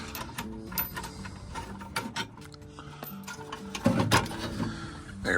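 Bolts are worked loose from the factory step on an Airstream travel trailer, heard as bursts of mechanical ratcheting clicks with uneven pauses and a louder clattering moment near the end.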